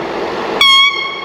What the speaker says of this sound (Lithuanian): Toks įdomus lokomotyvas, nežinau, kam jisai skirtas yra.